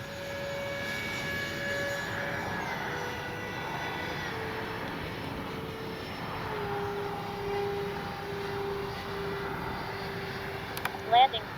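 An E-flite A320 Neo RC jet flies past with its landing gear down on approach, a steady whining ducted-fan drone that holds level and fades slightly, with a few sharp clicks near the end.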